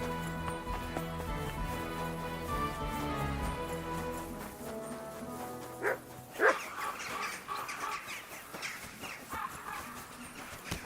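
Dog barking in the medieval role-playing game Kingdom Come: Deliverance II, a couple of sharp barks near the middle standing out over a steady musical score with ambient game sounds, no talking.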